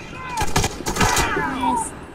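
Gunfire in the shooter game Warface: a rapid cluster of sharp, loud shots followed by a second burst, close and dominant, with a voice speaking beneath.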